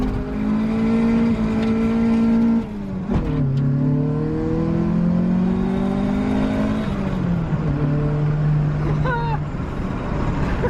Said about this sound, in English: Break it in with the good old burnout.